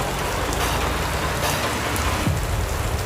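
Heavy rain pours down steadily and loud, a dense unbroken wash with no clear thunder, no voices.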